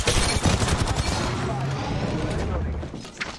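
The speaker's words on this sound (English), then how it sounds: "Contact with hostile. Already on my mark, firing for effect." Gunfire in Apex Legends from the Bloodhound side, dense bursts of shots mixed with game effects, with a voice speaking over the shooting throughout.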